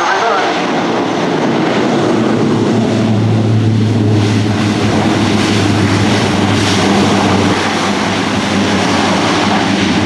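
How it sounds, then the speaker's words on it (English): Turboprop engines of a C-130J roaring loudly in reverse thrust during its landing at an air show, a sustained broad drone with a steady low tone running through it. "now listen to the sound of the engines"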